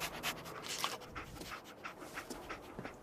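Dogmeat, the German shepherd companion in a post-apocalyptic game, pants in quick rhythmic breaths close by, with a soft whimper mixed in and no talking.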